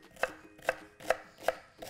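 A knife chops onion, celery stalk and carrot on a board in a home kitchen, five evenly spaced, crisp, close strikes with no talking.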